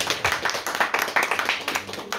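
At a literary event for young authors, a small audience applauds, with distinct, fairly close handclaps coming in an uneven rhythm and fading slightly toward the end.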